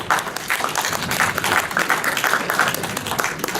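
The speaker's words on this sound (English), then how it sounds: "Everybody give him a round of applause." Audience at a Type-Moon fan panel at Kami-Con 2018 gives a round of applause, dense clapping that stays loud and even throughout, with a few voices mixed in.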